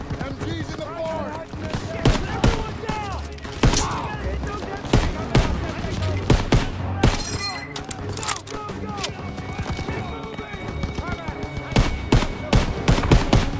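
Call of Duty WWII combat: rapid machine-gun bursts and scattered gunfire crack over a dense battle din, with shouted voices mixed in and a few heavier impacts punctuating the continuous firing.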